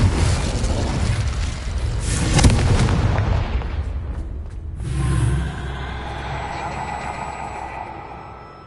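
Fiery spell blast in Hogwarts Legacy, a loud whooshing burst with a deep rumbling boom that swells around the middle, then tails off into a crackling, lingering roar.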